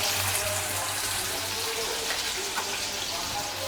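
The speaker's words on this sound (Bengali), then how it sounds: "আমি একটা ডিম পোস্ট করে দিচ্ছি।" Water bubbling and hissing steadily in a pan as an egg is poached, a continuous wet simmer with faint clinks, close by and without talk.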